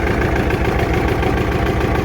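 A John Deere R tractor engine runs steadily just after a cold start, a loud, continuous low idle with throbbing vibration and no breaks.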